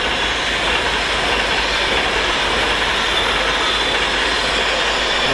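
Train 39103 on a Glasgow to Euston service speeds through Stafford station on the West Coast Main Line, a loud, continuous rushing roar of wheels and wagons close by, with no talk.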